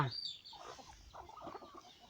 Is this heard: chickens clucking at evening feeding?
yes